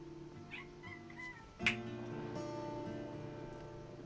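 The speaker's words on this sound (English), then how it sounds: "My cat is just screaming up a storm right now." A house cat meows loudly several times, with one sharp, piercing cry in the middle followed by a sustained wailing call, close by and alone with no talk.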